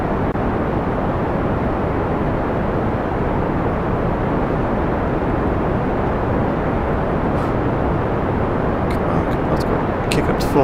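A rocket engine at full throttle in Kerbal Space Program roars as a dense, steady, loud broadband rumble that never lets up, with a few faint clicks near the end.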